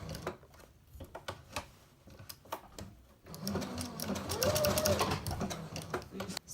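A sewing machine stitches appliqué fabric in short runs of rapid, close clicking, pausing and restarting as the work is turned around tight corners, with a louder, busier stretch in the second half.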